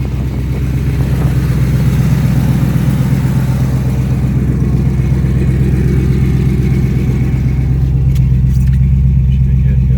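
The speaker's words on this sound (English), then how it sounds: "Just flip the throttle real quick." A 1994 Chevrolet Sonoma V8 runs through a Flowmaster 40 series muffler turned to dual-in, single-out, a loud, deep, steady rumble up close with slight throttle rises and falls throughout.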